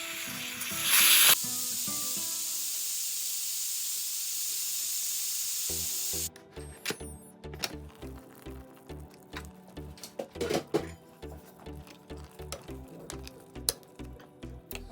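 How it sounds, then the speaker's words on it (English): Steam hisses steadily from the pressure release valve of an Instant Pot cooking vegetable lentil soup, a loud continuous rush that stops after about six seconds, followed by faint ticking and clattering. "let the pressure release naturally, or go ahead and release it using the valve"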